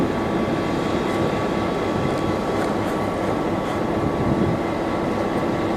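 Steady, loud rumbling of a train rolling along rails on a railway to the Grand Canyon, a continuous broadband roar with a faint high whine throughout and no talking.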